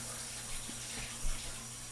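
Steady running water from a tap, a continuous hiss at moderate level with a low hum beneath, no voices present.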